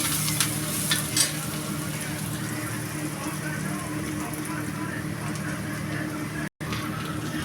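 Onion frying in a pan alongside bombil fish, a continuous close sizzle with a few early stirring clatters, then a brief dropout near the end.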